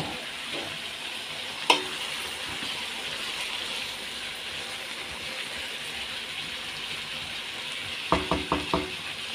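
Vegetables with cauliflower sizzling steadily in a hot pan for a stir fry with chicken, a continuous hiss under a few sharp clatters of a utensil against the pan, one early and a quick run of taps near the end.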